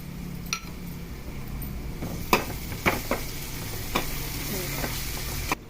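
Tomato pieces sizzle in a pan for a vegetable curry, a steady frying hiss under scraping stirs and a few sharp metallic clinks of the spoon against the pan, close and moderately loud.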